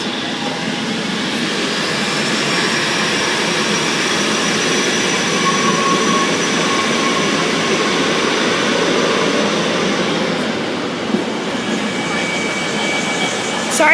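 A Sydney train pulls out of a station with a steady rising electric hum and rumble that stays loud and even throughout, with a brief knock near the end.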